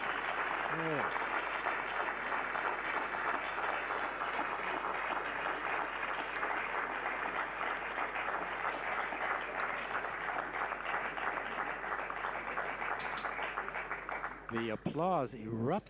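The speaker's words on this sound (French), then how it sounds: "Alors les applaudissements ici, vraiment spontanés." Spontaneous applause breaks out in a room after the separation of the PeruSat-1 satellite, sustained dense clapping that carries on for many seconds before thinning out, with voices heard near the end.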